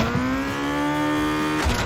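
A sports car engine in the racing game Asphalt 9 Legends revs loud and steady at high pitch, its tone rising slightly before a brief gear shift near the end.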